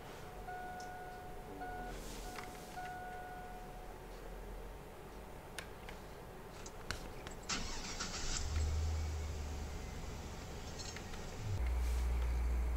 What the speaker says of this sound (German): So, ich mache den Motor schon mal an.